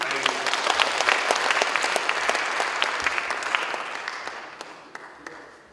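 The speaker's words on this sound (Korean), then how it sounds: "박수로 환영하겠습니다" Congregation at a church missions gathering applauds to welcome a missionary serving in Mali, a dense wash of clapping that holds steady for several seconds and then thins and fades.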